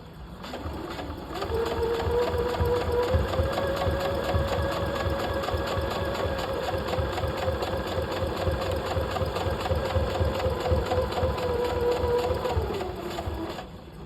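A sewing machine runs a steady lock stitch along a double welt pocket on a half scale jacket, a continuous close mechanical whir starting and stopping cleanly, with no talking.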